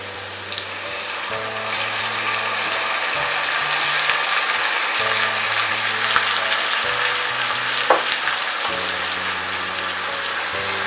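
Soaked basmati rice frying in oil inside a pressure cooker, a continuous crackling sizzle with faint scraping stirs, close and alone without speech.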